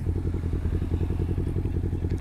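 A noisy big-bike motorcycle engine thrumming with a steady, rapid pulsing beat close by, running continuously with no voices over it.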